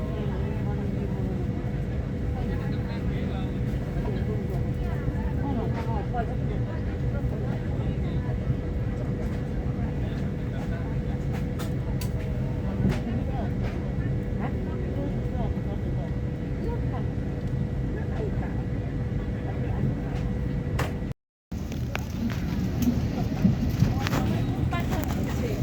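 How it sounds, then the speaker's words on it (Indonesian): Airplane cabin noise during a flight to Madinah: a steady, loud, low roaring drone fills the whole stretch, with only a brief dropout near the end. "Ini saya sekarang sudah berada di atas pesawat menuju Madinah"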